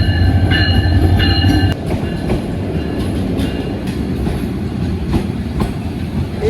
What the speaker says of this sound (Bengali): ট্রেনের শব্দ শুনতে পাচ্ছি মনে হচ্ছে যে ট্রেন আসতেছে